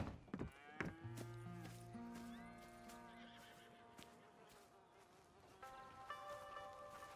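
Cattle low at a ranch in the Western video game Red Dead Redemption 2. A few drawn-out moos and a short animal call stand out over quiet outdoor ambience.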